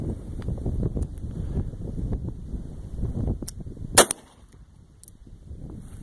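A single sharp gunshot from a Model 1874 Italian service revolver (Chamelot-Delvigne system) fired single action, a loud crack near the middle of outdoor wind noise and rumble.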